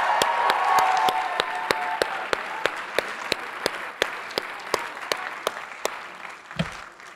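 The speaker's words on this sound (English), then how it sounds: "Let's have a round of applause for Dean Delva for calling all those names." Audience applause at a university graduation class day ceremony, a steady wash of many hands clapping that holds for several seconds before fading, with a few sharper individual claps standing out near the end.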